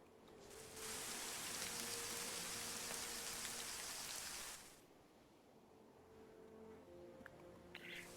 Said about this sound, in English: I made it rainy on purpose, that way, you know, the rain can drown out launcher noises like that